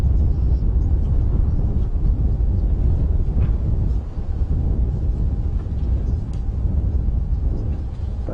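Wind buffets the microphone during a sunrise safari drive near nervous buffalo, a steady low rumble and roar with a short dip midway and no speech.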